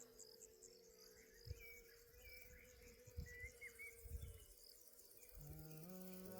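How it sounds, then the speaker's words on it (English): Crickets chirp steadily in a dense, high-pitched chorus in a Bulgarian village garden, with a few soft thumps and a faint hum underneath. "Lots of crickets."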